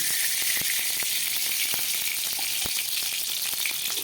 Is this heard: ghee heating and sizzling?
yes